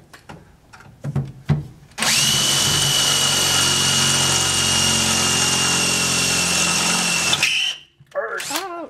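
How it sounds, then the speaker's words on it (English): After a few brief clicks and knocks, a power drill runs loud and continuous for about five seconds, drilling a hole while fitting a 1957 Chevy gas tank and fuel lines, then stops; a voice speaks briefly afterward. "see where we want to drill a hole at"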